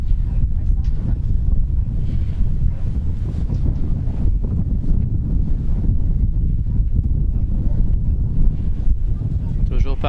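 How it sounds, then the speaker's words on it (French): Wind rushing across the microphone at an outdoor AAC national agility event, a continuous low roar with gusty flutter lasting throughout, loud and close, with no clear speech on top. "On a même le vent qui se met de la partie."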